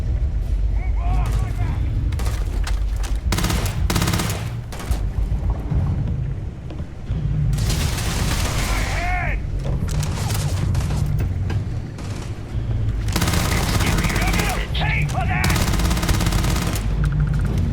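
Gunfire in the sci-fi video game Starfield comes as dense bursts of rapid shots and heavy booms, loud and continuous. Game voices and effects are mixed in.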